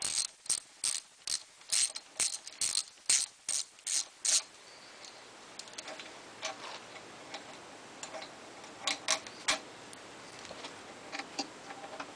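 A ratchet wrench loosens a bolt by the idle air control valve on a naturally aspirated Nissan 300ZX engine during a coolant bypass job: a run of sharp, evenly spaced clicks up close, then softer, sparser clicks.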